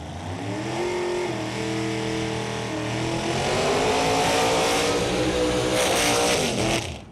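A drag car powered by a 572 engine roars through a run, loud and close, its revs climbing in stepped pitches with each shift before settling into a sustained harsh scream.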